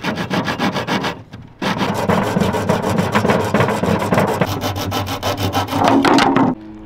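Hand saw cutting wood for custom boat cabinet parts during a boat renovation, with steady back-and-forth rasping strokes, a brief pause early on, then continuous rhythmic sawing close by until it stops near the end.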